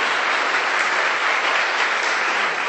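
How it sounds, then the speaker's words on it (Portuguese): A church congregation bursts into steady, dense applause that fills the room at full volume, a continuous wash of many hands clapping without pause. "Você pode dar um aplauso ao Senhor?"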